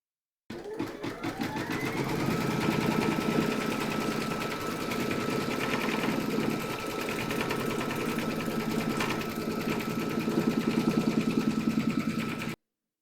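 An embroidery machine stitches continuously through a hooped fabric design, a steady, rhythmic mechanical chatter with fast needle ticking that runs alone and unbroken from start to finish.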